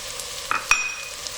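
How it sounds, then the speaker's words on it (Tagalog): Onions and chili being sautéed in a pan for spicy shrimp in coconut milk, a soft steady sizzle broken by two quick metallic clinks of a utensil, close and brief. "itutuloy lang natin yung paggisa hanggang sa tuluyan na lumambot dito yung sibuyas"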